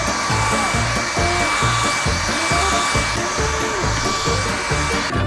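A small handheld vacuum with a brush attachment whirs steadily while cleaning dust off a door, a constant loud motor drone with faint rhythmic scrubbing underneath.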